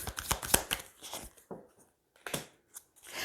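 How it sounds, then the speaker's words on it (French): Fallen tarot cards are gathered up from the floor, giving a close, busy rustle and slide of card stock in uneven bursts, with a short pause midway before more shuffling. "Je vais récupérer les cartes qui sont tombées par terre."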